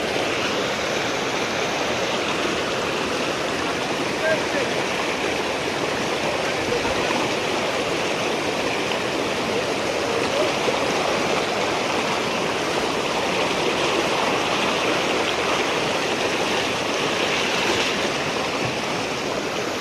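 A cold mountain river rushes steadily during a crossing on foot, a loud, dense, unbroken roar of flowing water with no pauses.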